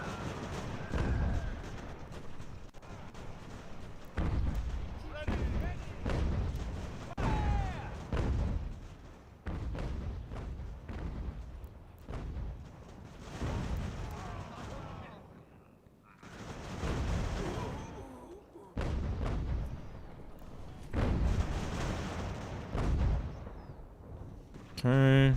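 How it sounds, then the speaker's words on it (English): In Ultimate General: American Revolution, enemy artillery booms again and again, heavy thuds and blasts landing every second or two across the battlefield, with a voice talking intermittently between them. "This lead regiment or whatever is getting pretty badly handled by the enemy artillery"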